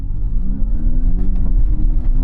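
An AMG electric car's synthesized engine sound plays as the car approaches, a close, loud, rising motor hum with layered low tones that swells and rumbles steadily for a couple of seconds.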